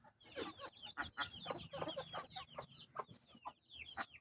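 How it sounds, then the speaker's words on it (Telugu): Chickens and ducks crowding around scattered feed, with close, busy clucking and short squawks overlapping in an irregular stream, fairly faint overall and no talking. "బాతులు కోళ్ళు ఇవన్నీ చూడండి, ఒక దండిగా వచ్చేసాయి"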